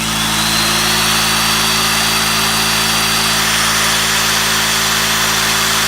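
A steady, loud mechanical whine with a constant motor hum runs unbroken throughout, from an electric drill left running.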